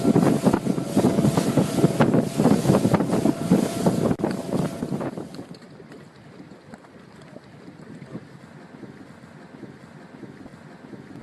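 Wind and water roar aboard a sailboat in a bay in France, loud and gusty with wind buffeting the microphone, easing into a softer wash of water and breeze for the second half, with no talking.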